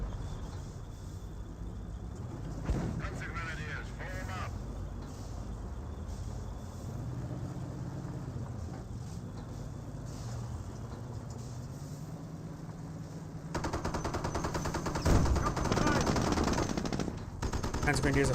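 Sniper shots and machine-gun fire in a Company of Heroes battle, heard as steady, fairly quiet bursts of game gunfire under engine rumble, growing denser near the end.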